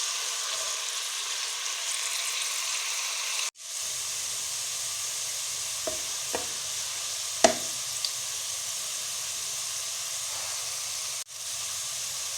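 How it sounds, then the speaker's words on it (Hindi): Onions fry in a pan until lightly golden, making a steady, soft broadband sizzle and hiss that runs throughout with a few faint clicks and a brief break partway through. "प्याज को फ्राई करेंगे तब तक जब तक इनका कलर हल्का सा"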